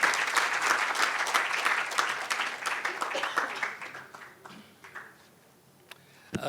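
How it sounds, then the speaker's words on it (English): An event audience applauds loudly to welcome a speaker, the clapping gradually thinning and fading until only scattered claps remain. "let's welcome the ever insightful, ever witty Mr. Santosh Desai with a huge round of applause"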